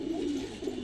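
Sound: pigeon cooing

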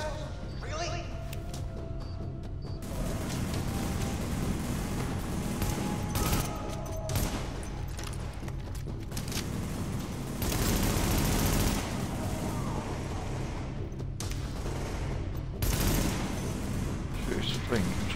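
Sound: gunfire in The Division video game

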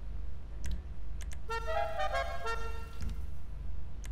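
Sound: car horn in the video game Grand Theft Auto V

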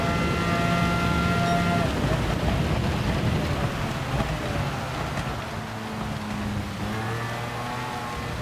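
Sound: extreme rain in the video game Gran Turismo 7

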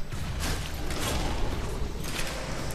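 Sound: weapon reload in NecroVisioN video game

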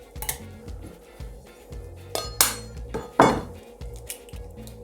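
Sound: separating egg yolks from whites

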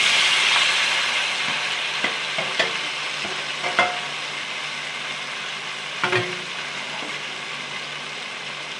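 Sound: tomatoes being stirred and sautéed in oil

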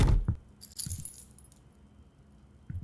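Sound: car keys jangling in a video game (Mooshie's Kitchen)

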